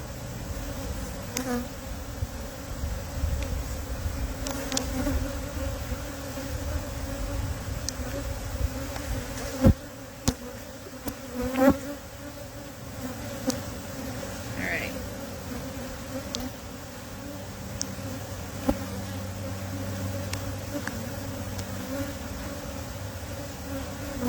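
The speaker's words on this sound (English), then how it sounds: "I'm watching this bee" Honey bee buzzing steadily and continuously close by, a sustained insect drone with a few faint clicks and knocks over a low background hum.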